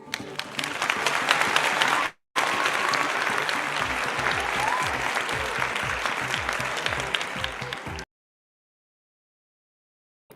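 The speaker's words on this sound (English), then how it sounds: "with a round of applause, let's welcome Dr. Princess Ruhama Echampong to the stage" Audience applause welcoming a speaker to the stage at a parenting session, a dense, steady patter of many hands clapping for about eight seconds with a brief dropout near the start, then silence.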